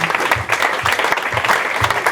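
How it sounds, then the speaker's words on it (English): A live quiz show audience gives a round of applause, a dense, steady wash of many hands clapping at close range with no speech over it. "give Paul Cox a round of applause"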